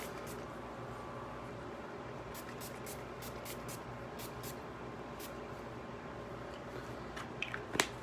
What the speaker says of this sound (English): Now I'm gonna take my shine spray.